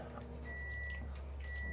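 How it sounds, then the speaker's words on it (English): A microwave oven in a home beeps with a thin electronic tone, two faint beeps heard at a distance over a steady low background hum. "There's the microwave beeping."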